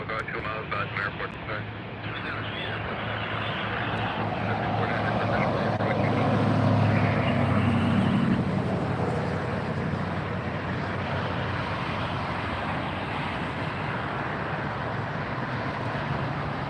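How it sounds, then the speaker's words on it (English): A Boeing 737 MAX 8 airliner near LAX airport, a broad jet roar that swells to a peak midway and then eases off. Radio chatter and talk can be heard under it. "That's flight 645, a Boeing 737, MAX 8."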